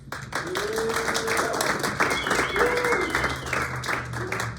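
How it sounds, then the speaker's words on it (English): Steady applause from a crowd, dense clapping that holds throughout with a murmur of voices and a few whistles or cheers riding on top. "give our incoming president a big round of applause"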